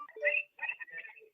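A telephone rings on a remote public-meeting call line, a few short electronic trill bursts with brief gaps, moderately loud and heard alone.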